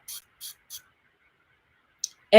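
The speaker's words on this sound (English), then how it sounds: "So like when I spray it," Three quick hissing pumps of an herbal throat spray, evenly spaced and close, then near silence broken by a small click and the start of a voice.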